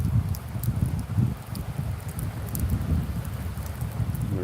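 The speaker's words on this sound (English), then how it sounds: "The rain is picking up." Steady rain falls during a thunderstorm with a tornado warning, a dense continuous patter with low rumbling underneath, fairly loud and close, with no voices.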